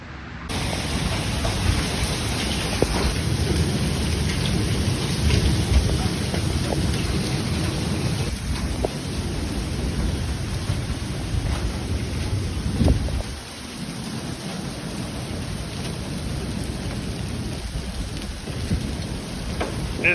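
An intense hail storm pounds down in Mexico as a dense, continuous roar of hailstones strikes surfaces close by, loud and unrelenting, with low thunder rumbling underneath and a brief dip near the end.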